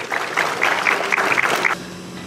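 A ceremony audience at a municipal event gives brief applause to welcome the manager of a solid waste unit: a couple of seconds of moderately loud, uneven clapping that stops abruptly, with faint voices underneath.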